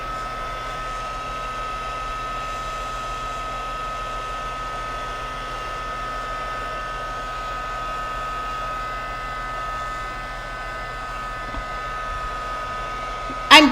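Hair dryer drying paint on an art journal page, a steady close whirring hiss that holds evenly for over ten seconds before a brief bump at the end.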